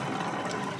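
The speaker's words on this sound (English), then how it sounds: "we're filling up with water as well" Water running into a camper van's tank during a stop in Morocco, a brief steady rushing, gurgling flow heard close and alone.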